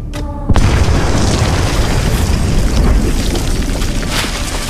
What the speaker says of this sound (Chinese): 前方灰尘顿时随着爆炸铺天盖地而来